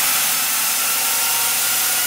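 Motor for a Lego bolt gun spinning at high speed, a constant loud hissing whir that holds steady for about two seconds with no talk.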